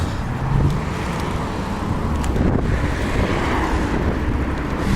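Strong wind buffets the microphone while cycling along city bike paths and picking up speed on a descent, a continuous low roar and rumble with gusty swells and no voices.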